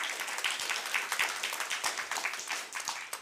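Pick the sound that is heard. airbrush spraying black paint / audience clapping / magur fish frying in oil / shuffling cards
audience clapping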